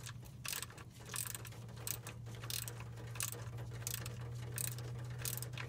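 A ratchet loosening transmission pan bolts on a GM car with a 4T40E/4T45E automatic, regular rasping clicks in quick back-and-forth strokes, close up over a steady low hum.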